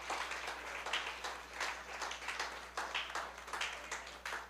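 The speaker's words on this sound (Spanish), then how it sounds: "darle un aplauso de alabanza al Maestro." A church congregation claps in praise, a fairly quiet, rhythmic applause of many hands with regular pulsing bursts under a low steady hum, heard from some distance and without talk.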